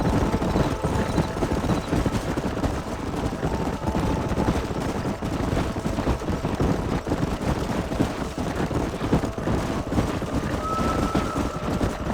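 Horses' hooves clip-clop steadily through a canyon in the video game Red Dead Redemption, mixed with dense background game sound and a brief whinny-like tone near the end.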